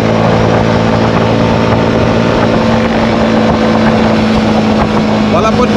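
A CF Moto CLX 250 motorcycle cruising at 100–110 km/h on the road gives a steady, loud engine drone mixed with heavy wind roar, unbroken for the whole stretch.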